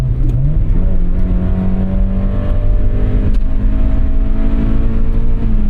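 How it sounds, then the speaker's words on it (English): A 1992 Mazda MX-5 Miata (NA) with a new aftermarket exhaust revs loudly and steadily close by, its engine note climbing and holding with a throaty drone, with no talking over it. "Not the most powerful engine by any means, but I love the sound with this new exhaust."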